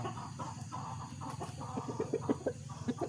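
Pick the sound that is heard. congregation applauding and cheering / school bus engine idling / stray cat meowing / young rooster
young rooster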